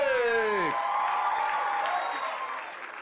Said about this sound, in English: Let's give another round of applause for Zamalewa Afrik.